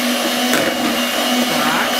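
A motorized mixer or blender whirs steadily through a condensed milk ice cream mixture, a loud continuous drone with a constant hum and no pauses, no one talking.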